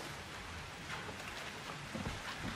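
Rain of blood in the Outlast 2 horror game, heard as a steady dense patter like heavy rainfall, constant and fairly close throughout with no voices.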